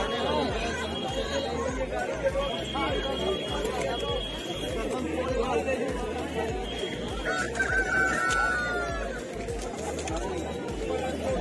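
Steady crowd babble and talking fill a busy chicken market in Lucknow, India, with chickens clucking and occasional rooster crows mixed in throughout.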